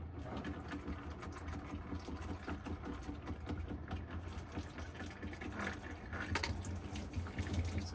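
Transmission fluid drains from the pan of a 2018 Ford F250 Super Duty diesel in a steady, continuous trickling stream with a low hum beneath it.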